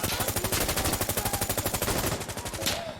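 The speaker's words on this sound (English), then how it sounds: "someone's using the 50 cal" .50 cal machine gun firing in a video game, a long unbroken burst of rapid, evenly spaced heavy shots, loud and close, ending abruptly near the end.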